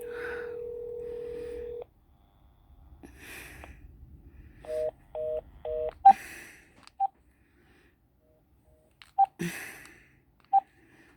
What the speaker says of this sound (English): Oh, shoot. I just dialed.